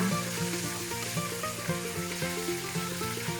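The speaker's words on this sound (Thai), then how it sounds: "ก็ทอดไปจนหมดเลยค่ะ" Pork wontons deep-frying in hot oil give a steady, dense sizzle and crackle throughout, close and even, with a faint tonal hum beneath.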